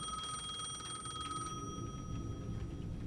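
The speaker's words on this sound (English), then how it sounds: "The payphone at the edge of the plaza was ringing again." A payphone rings in Alan Wake 2, a continuous trilling electronic bell held over low ambient rumble, with no voices.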